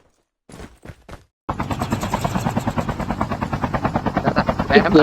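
Helicopter in the Call of Duty Mobile game: a few brief bursts, then a steady loud rotor chop with rhythmic pulsing thuds that keeps going to the end, gunfire-like cracks mixed in.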